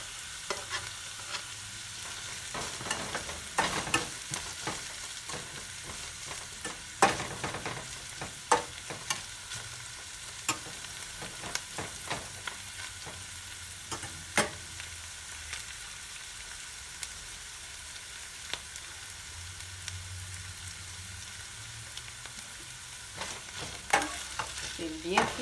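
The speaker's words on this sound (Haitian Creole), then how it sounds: "C'est bien frit dans la graisse là." Onions and herring fry in fat in a pan, a soft steady sizzle broken by frequent sharp scraping clicks of stirring, close and fairly quiet with no talking.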